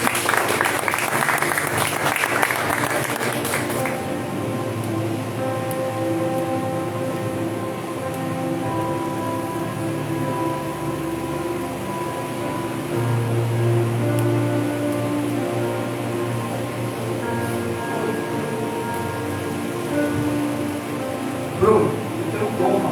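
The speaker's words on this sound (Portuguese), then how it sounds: "Aplauda ao Senhor Jesus." A church congregation breaks into loud applause for about four seconds. The clapping then fades into a steady background hum that holds through the rest of the stretch.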